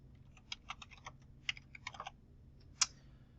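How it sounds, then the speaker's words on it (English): Typing an email address and password on a computer keyboard, a sparse run of distinct clicking keystrokes with short pauses and one sharper final tap, close and clear over quiet background. "you want to type in your email address, and then you want to type in your password"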